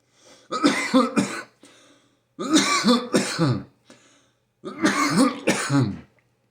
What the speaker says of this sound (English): The reason why I'm coughing